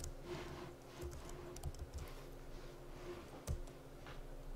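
Light keystrokes tapped on a computer keyboard, soft scattered clicks with a sharper tap near the end, close by with no voices.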